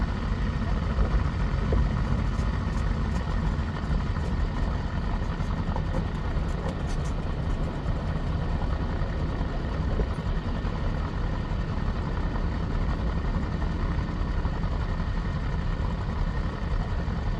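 A small airplane's engine drones steadily while taxiing toward Sun 'n Fun, heard from inside the cockpit as a loud, continuous low rumble that does not let up.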